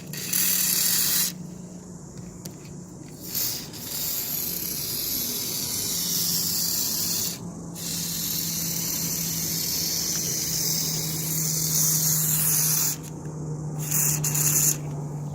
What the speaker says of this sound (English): I'm going to put this nozzle straight in here. I'm going to spray